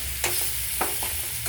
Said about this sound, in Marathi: आणि हे व्यवस्थित प्रकारे असं परतून घेणार आहोत